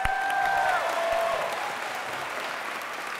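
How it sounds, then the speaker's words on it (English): Loud, dense applause from a crowd at a school district's Juneteenth celebration, steady and sustained throughout with a brief tone sliding downward early on. "Give it a round of applause."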